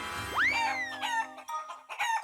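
A cartoon chicken lets out a loud, upward-swooping squawk, then a run of bright clucks, alone with no talking.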